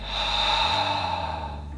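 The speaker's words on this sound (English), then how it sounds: "In through the nose, out through the mouth." Slow breath out through the mouth during a guided yoga breathing warm-up, a single steady airy exhale lasting under two seconds, close and fairly loud, with no talking over it.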